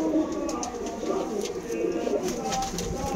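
Malwai pigeons giving soft rolling coos nearby, steady throughout, with faint talk in the background.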